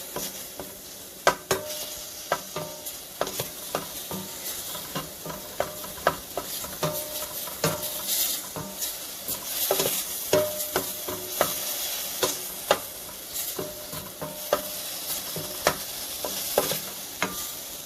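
Beef and a spoonful of garlic stir-fried in a pan for Korean rice cake soup: a continuous close sizzle broken by repeated sharp scrapes and taps of a utensil against the pan at an irregular pace, no voices.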